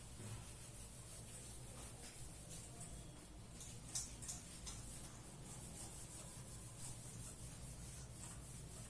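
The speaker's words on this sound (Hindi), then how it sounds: "चलो रब करता हूं मैं आगे" Rubbing out writing on a board during a physics lesson, a continuous faint scrubbing and scraping texture with small irregular bumps, quiet and steady throughout.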